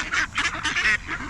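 Ducks being fed bread in a park in New Zealand honk and quack in loud, overlapping bursts close by, several calls clustered in quick succession with brief gaps.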